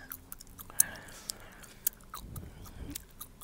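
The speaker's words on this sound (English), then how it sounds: "I hope y'all can hear me chewing." Close, wet chewing gum with smacking mouth sounds and a few sharp clicks, soft and intimate, with faint breathy vocal noises, inside a car.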